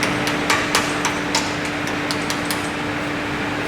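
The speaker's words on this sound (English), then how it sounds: "Where's my rawhide hammer?" A rawhide hammer taps parts onto a Honda 250R in a string of light, dull knocks at uneven intervals, close by over a steady background hum, with no talking.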